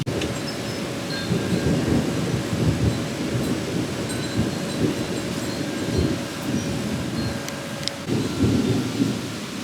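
Summer thunderstorm with steady heavy rain and rolling rumbles of thunder, a continuous loud wash of rainfall with deeper booms swelling and fading throughout, no voices.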